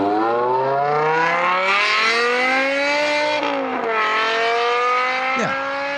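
A car engine revs up and down with a rising and falling exhaust note, loud and steady, with a brief dip and quick blip near the end.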